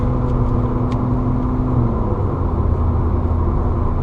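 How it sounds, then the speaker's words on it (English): Stage 2 tuned Volkswagen GTI engine after a paddle downshift, a loud, steady low rumbling idle with a constant drone, heard close and alone. "Let's do a paddle downshift. Let's go back into drive."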